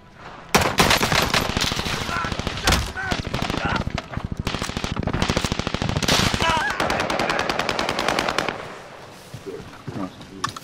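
Sustained automatic gunfire in a first-person shooter game, loud rapid bursts running nearly continuously for about eight seconds before easing off, with other gameplay effects mixed in.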